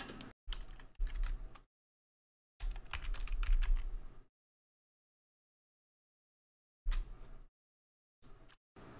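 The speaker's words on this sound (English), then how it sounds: "I'm going to type in, I will help you get fit in record time. I can type faster than this" Bursts of rapid typing on a computer keyboard, close and clear, separated by gaps of dead silence, with no talking over the keystrokes.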